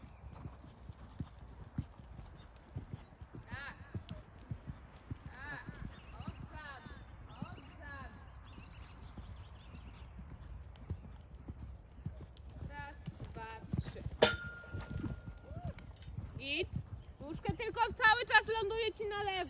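Horse hooves clip-clopping steadily during an outdoor riding training session, a regular rhythm of close, crisp hoofbeats throughout, with a trainer and rider speaking over them.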